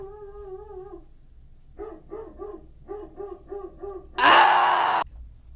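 A dog gives a drawn-out whine or howl, then a run of short yipping barks in quick clusters, close and fairly loud, ending in a brief harsh burst of noise.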